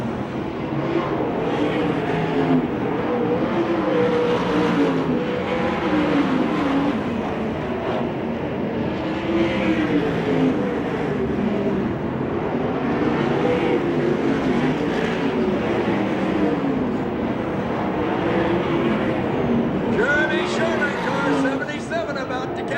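USAC/CRA sprint cars racing at Phoenix, Arizona, a steady loud roar of engines sustained throughout under an excited commentator's voice.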